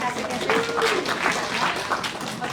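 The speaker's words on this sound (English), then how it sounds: "all applaud Bubba for his fantastic" Audience applause during a workplace safety talk, a dense wash of clapping lasting throughout, with some voices mixed in.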